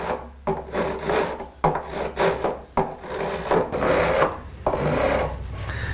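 Hand filing of bevels on the fret ends of a Gill 12-string guitar, a close, steady wooden rasping in repeated strokes with brief pauses between passes and no talking.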